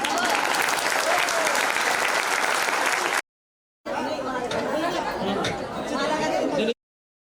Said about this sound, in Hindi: आपकी तालियां कमजोर पड़ गई बच्चों के आगे।